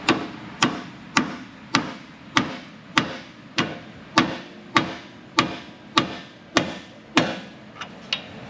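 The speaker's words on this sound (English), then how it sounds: "Pry bar it down and then send it with the mallet, which is basically a squishy hammer." Mallet driving a Ford wheel bearing component into place, about fourteen sharp, evenly spaced metallic blows roughly every 0.6 seconds, loud and close, each with a short ringing decay, with no talking.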